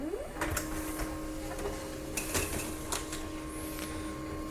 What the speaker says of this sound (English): Okay, the printer will make some noises.